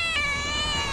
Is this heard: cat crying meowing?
yes